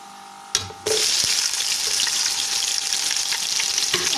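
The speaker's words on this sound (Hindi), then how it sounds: "अब हम लोग इसके अंदर प्याज शामिल करेंगे" Chopped onions drop into hot oil with garlic in a pan and burst into a loud, steady sizzle that continues close up without any talking, after a short quiet start.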